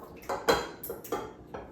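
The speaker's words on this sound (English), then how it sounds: "Now we're gonna put the eggs in" Eggs go into cookie dough in a bowl, heard as a few distinct clinks and taps against the bowl with a spoon, about four close, crisp knocks spaced through a brief moment with no talk.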